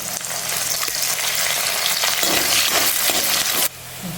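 Mustard seeds, garlic and curry leaves hit hot oil with a loud, dense crackling sizzle that holds steady, then drops suddenly to a softer frying hiss near the end.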